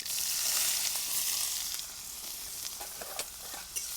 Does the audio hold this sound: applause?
no